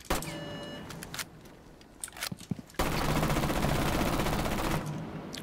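A gun in Rainbow Six Siege fires in short bursts, then a long sustained stream of automatic fire, close and loud, with brief quieter gaps between.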